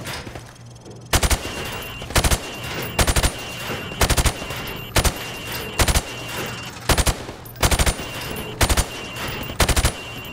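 Gunfire while shooting targets in the video game Call of Duty Modern Warfare: sharp, loud rifle shots fired in quick pairs and triples at steady intervals over a low background hum, no talking.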